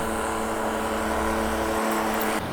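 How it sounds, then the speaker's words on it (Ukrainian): Solis 50 tractors running in a dry field, a steady loud engine drone with a constant hum that continues throughout, cutting off abruptly near the end. "наші тракторці працюють так"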